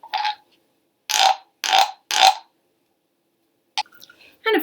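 Frog-shaped wooden percussion instrument rubbed along its ridged back to imitate a frog, a short croak followed by three raspy scraping croaks in quick succession, close and distinct, with brief clatter afterward.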